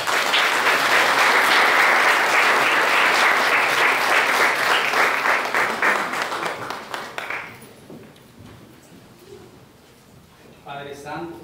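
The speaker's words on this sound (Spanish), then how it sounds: "un fuerte aplauso" A crowd applauds loudly at a quinceañera celebration, the clapping strong at first and then fading away, with a voice speaking near the end.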